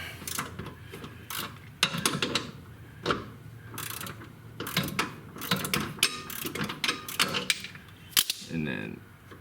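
A socket wrench works an axle nut off a Kei mini truck during a differential drop. Sharp ratcheting clicks and metallic clanks come in uneven bursts close by, with someone talking over them.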